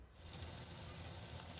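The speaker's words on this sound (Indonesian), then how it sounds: "ini kita goreng atau tumis ikan teri nasinya terlebih dahulu ya." Anchovies frying in a little oil in a wok, giving a steady, faint crackling sizzle that holds evenly throughout with no voices.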